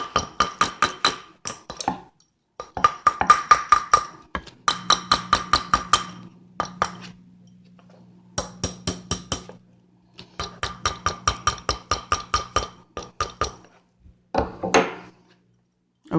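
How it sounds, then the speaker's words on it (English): Metal hammer tapping a bead-embroidered statement ring on a steel ring mandrel, close and sharp, in quick bursts of rapid clinking strikes separated by short pauses, with a low steady hum underneath. "And I'm going to hammer again."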